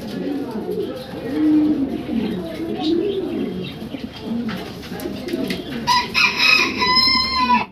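German Beauty Homer cream bar pigeons in a loft coo repeatedly in low, throaty rolls, with other birds chirping sharply toward the end.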